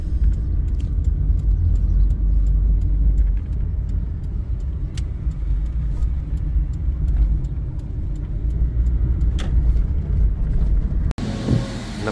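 Steady road rumble and engine drone fill the interior of a car driving through Yeysk, loud and continuous, with a sudden cut to a different sound near the end.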